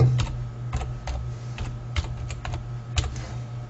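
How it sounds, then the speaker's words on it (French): Username and password being typed on a computer keyboard, a quick uneven series of close key clicks over a low steady hum. "Je tape mon pseudo, mot de passe."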